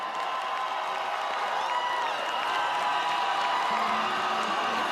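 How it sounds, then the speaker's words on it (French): Audience applauding and cheering five Miss Côte d'Ivoire pageant finalists, a steady distant-sounding crowd roar of clapping with scattered whoops, even in level across the whole stretch. "Des applaudissements nourris pour les 5 candidates qui sortent du lot."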